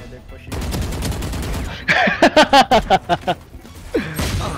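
Valorant gameplay gunfire rings out as a rapid burst of about eight sharp, evenly spaced shots in the middle, with a player's voice talking before and after the volley.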